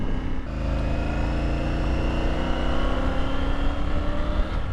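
A 2023 Triumph Tiger Sport 850 motorcycle pulls away in third gear, its engine droning steadily with a rising pitch under close wind rush.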